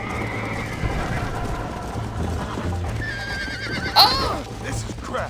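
Horse neighing in the Red Dead Redemption video game: a loud, sharp whinny bursts out near four seconds, layered over steady hoof clatter and a low game soundtrack hum.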